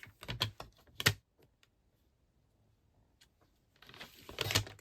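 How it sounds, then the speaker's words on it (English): A paper trimmer slices through designer series paper in a few quick, crisp cuts and scrapes near the start, then goes quiet before a rustling, sliding pass at the end. "And then I can bring in my trimmer again. And I will just trim that down."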